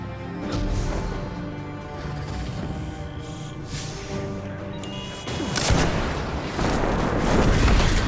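Rocket launcher explosions in the video game Destiny 2, a string of booming blasts and crashes layered over each other, growing louder and denser toward the end.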